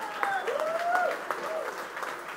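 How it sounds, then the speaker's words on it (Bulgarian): Audience applause at a popular science talk on space engines, broad clapping from the crowd with a couple of whistle-like tonal sweeps running through it, fairly loud and continuous. "може да продължите с аплодисментите"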